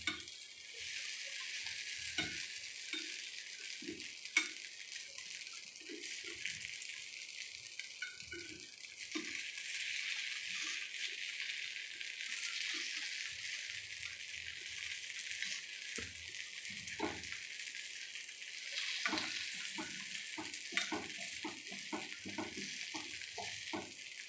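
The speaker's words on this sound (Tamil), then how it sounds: "இப்போ குழியிலேருந்து அப்படியே திருப்பி போட வேண்டியதுதான்." Kuzhi paniyaram batter sizzling in the wells of a paniyaram pan, a steady bright hiss with scattered scrapes and clicks as the dumplings are turned over one by one, close up and without talk.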